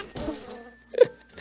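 Buzzing of a bee in the Mini World block-building game, a short insect drone that rises and fades under soft game sounds.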